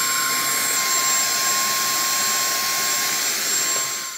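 A DISCOZ mini handheld cordless vacuum cleaner runs with a constant loud whirring hiss and a thin steady whine, easing off slightly at the end.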